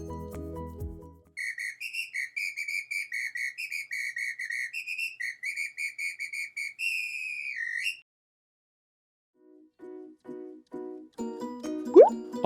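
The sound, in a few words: samba whistle being blown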